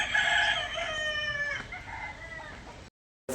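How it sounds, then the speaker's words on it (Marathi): A rooster lets out a loud, drawn-out crow among a flock of chickens, and the sound cuts off abruptly into silence just before the end. "कोंबड्या आहेत स्वतःच्या"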